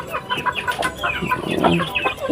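Several chickens cluck and murmur continuously at close range, overlapping calls forming a busy flock chatter.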